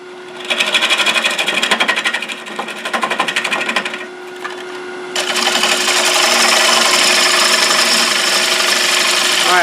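A gouge cuts a live-edge winged cherry bowl spinning on a lathe, crossing hard end grain: a loud, close, rapid chattering buzz that pulses at first, then settles into a steady rough whir.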